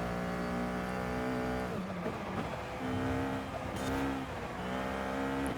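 A car engine in Forza Horizon 5 revving hard as it climbs a hill on a hill-climb run, a loud sustained whine that dips briefly at gear changes and then rises again.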